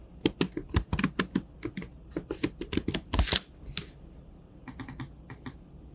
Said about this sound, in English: you can come in here and type a title card